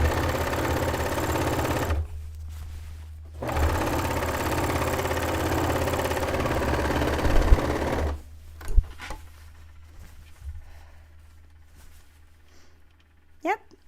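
A serger sewing machine runs in a steady mechanical whir, pausing briefly near the start and then resuming before stopping; scattered clicks and handling sounds follow.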